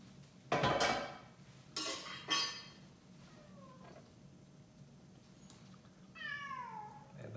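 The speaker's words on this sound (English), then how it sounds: "And that's my cat, if you can hear me." A few sharp clattering knocks, then a cat gives a couple of soft meows, with a clearer meow near the end in a quiet room.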